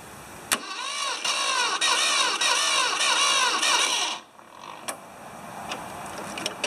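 A Ford 2600 tractor's starter motor cranks steadily with a rapid whirring, grinding rhythm for about four seconds, then cuts off, followed by faint clicks and knocks.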